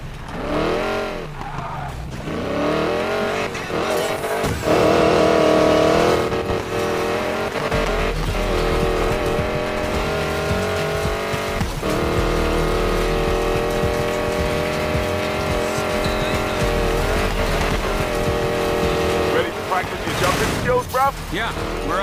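A hypercar races in Need for Speed Payback, its engine loud and revving with rising and falling pitch and tires squealing in places, while people talk over the racing.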